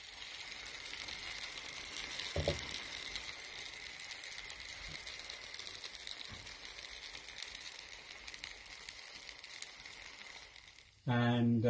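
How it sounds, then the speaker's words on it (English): Steady crackling sizzle of sourdough crumpet batter frying in rings in a hot pan, continuous and close, with a brief louder clatter near the end. "they'll sizzle away for a few moments."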